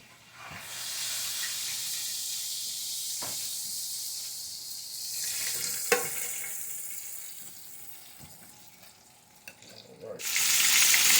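Pot roast vegetables hit a hot pan and saute with a loud, sustained hiss that swells and fades, punctuated by a few clicks and clatters, ending in a sharp burst of sizzling.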